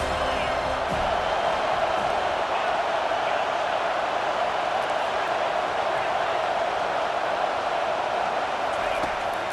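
Stadium crowd in the EA Sports College Football 25 video game: a loud, dense, steady roar of many voices filling the whole stretch without a break.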